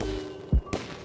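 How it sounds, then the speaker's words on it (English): A firework goes off in the background of a block-building video game, a single muffled thump followed by a faint crackling pop over a low steady hum. "there's a firework going in the background."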